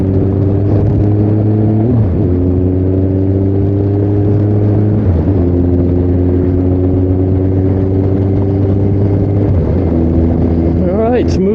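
Kawasaki Concours 14 motorcycle engine running steadily while riding, a loud continuous low drone with shifting harmonics and a few brief pitch dips and rises, wind rush throughout; someone talks over it.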